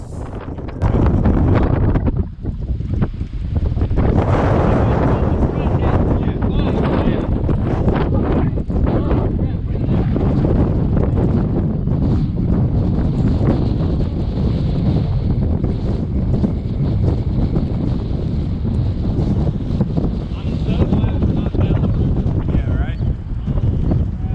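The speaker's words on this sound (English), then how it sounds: "I'm not sure where this wind came from, but it was pretty serious" Strong wind on a bass fishing boat during a river tournament, loud continuous roaring gusts buffeting the microphone for the whole stretch, with indistinct voices partly buried underneath.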